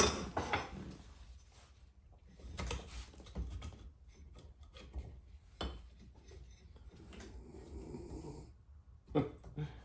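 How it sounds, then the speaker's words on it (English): Rough, rasping snores come from nearby at irregular intervals, each a short noisy breath, with faint rustling in between. "He's snoring."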